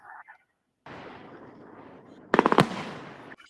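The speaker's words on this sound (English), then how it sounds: "I see the fireworks." Fourth of July fireworks go off with a burst of sharp crackling pops near the end, following a stretch of steady background noise.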